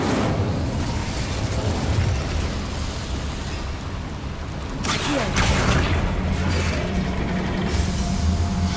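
A fire spell cast in Hogwarts Legacy bursts out about halfway through as a sudden broadband whoosh over steady, busy game ambience that carries on afterward.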